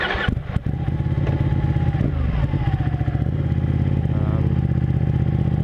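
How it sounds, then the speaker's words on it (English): A 2014 Ducati Panigale 1199 sport motorcycle rides down the road, its engine droning loud and steady up close with a brief rev near the start and continuous rumbling throughout. "we'll give it a quick spurt down down the road here"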